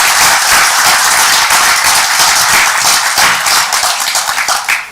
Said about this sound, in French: on pourrait peut-être l'applaudir